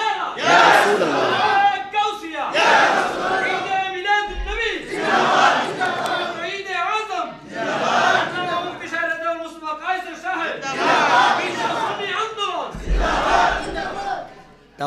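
A large religious gathering's crowd chants slogans in unison in answer to a preacher's call, several loud, drawn-out collective shouts in a steady call-and-response rhythm filling the space.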